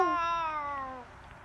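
A cat in the video game Boyfriend Dungeon gives one clear, drawn-out meow that falls in pitch and fades, heard close and alone.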